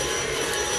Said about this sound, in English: You guys, I love this cordless vacuum. It's a Tenetco.